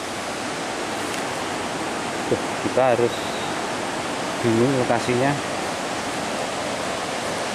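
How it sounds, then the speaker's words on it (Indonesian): A large river flows below a cliff on the slopes of Mount Wilis in Nganjuk, heard from above as a steady, even rushing roar. Someone speaks briefly over it twice. "di sana sudah ada sungai cukup besar"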